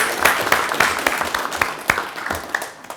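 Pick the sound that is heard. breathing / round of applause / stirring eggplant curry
round of applause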